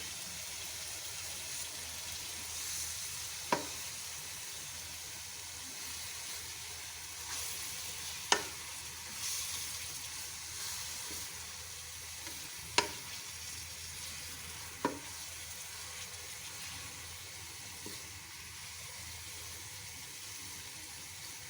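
Radish pieces stir-fry quietly in a pan for mooli sabzi, giving a soft, steady sizzle broken by a few sharp spatula taps spaced seconds apart.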